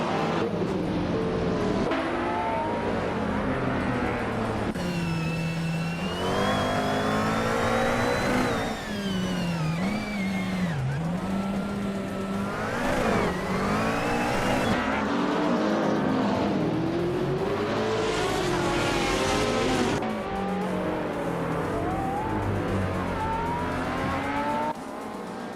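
In a video game race at Sportsland Sugo, engines including a 2009 Lola Aston Martin B09/60 LMP prototype roar steadily, rising and falling in pitch through gear changes and acceleration.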